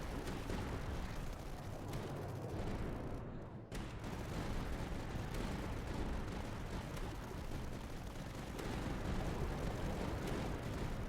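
Reaper Cannon fire in the Tower Dominion strategy game, heavy rumbling booms and blasts piling into a dense, continuous barrage with one short gap, loud and busy throughout.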